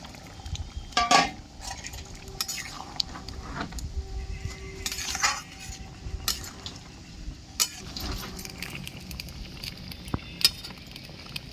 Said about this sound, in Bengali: ভালো করে ফুটে উঠেছে ভেজে রাখা বড়া দিয়ে দিচ্ছি